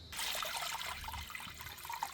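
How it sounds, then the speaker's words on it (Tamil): Water pours into a cooking pan to boil eggs for an egg ghee roast, a steady broadband splashing rush that runs continuously and fairly loud from start to end, with no voices. "முட்டை அவிக்கிறதுக்கு இப்போ தண்ணி சேர்த்துக்கிறோண்ணா"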